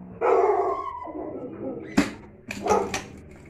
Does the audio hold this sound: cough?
no